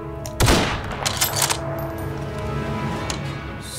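Gunshots in a military roleplay video game: a loud sharp report, then a few scattered shots and thuds fading into a low steady background hum.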